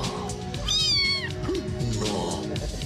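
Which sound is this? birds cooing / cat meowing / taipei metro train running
cat meowing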